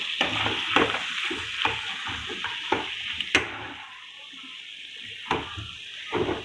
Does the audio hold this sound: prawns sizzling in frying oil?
yes